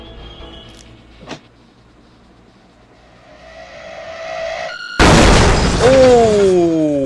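A sudden loud blast erupts in the Roblox game Plunger Roulette, followed by sustained roaring debris and falling whistling tones, after a quieter stretch of rising synthetic game tones.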